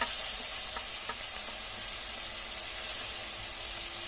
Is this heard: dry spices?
yes